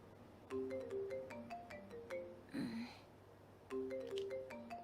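A phone ringtone in a video game plays as a faint melodic pattern of short chiming notes in repeated phrases over soft background music.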